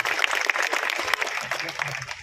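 An audience claps to welcome a member of parliament at a ground-breaking ceremony in Chhindwara, a dense wash of many hands that swells and stays loud throughout, with faint voices underneath.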